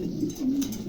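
A pair of pigeons offered for sale gives soft, low cooing, a couple of rolling coos close by with no talk.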